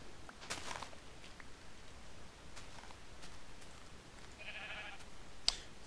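A single faint Minecraft sheep bleat sounds once against a steady hiss of background noise.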